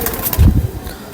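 A prized fancy pigeon gives a short, close coo, one low rolling call over a quiet background.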